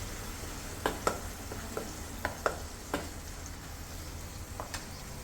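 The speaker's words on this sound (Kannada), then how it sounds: "ಈಗ ಟೊಮ್ಯಾಟೊ ಪ್ಯೂರಿ ಕೂಡ ಹಾಕ್ಕೊಂಡ್ಬಿಡ್ತಾ ಇದ್ದೀನಿ. ಹಾಕ್ಕೊಂಡು ಇದು ಕೂಡ ಫ್ರೈ ಮಾಡ್ಕೊಳ್ಳೋಣ" Tomato puree frying in a pan with onion and ginger-garlic paste for north-style chole: a faint, steady low sizzle with occasional spatula clinks and scrapes, heard alone.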